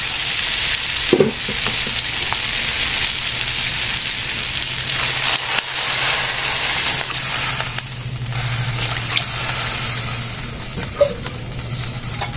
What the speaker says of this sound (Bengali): মশলা কষানো হয়ে গেছে, আর মধ্যে ঝোল দিয়ে যাচ্ছে।